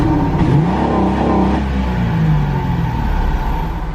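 Engine of a twin-turbo drift Mustang with a Hurst 5-speed shifter, loud and close as it revs up from idle once, then settles back into a steady rumble.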